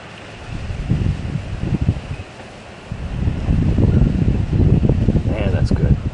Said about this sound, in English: That wind though.